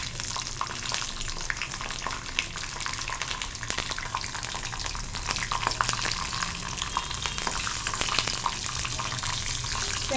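Peanuts and green chilies frying in a pan for spicy sponge gourd bharta, a steady dense sizzle with occasional crackles and pops, close and continuous with no talking.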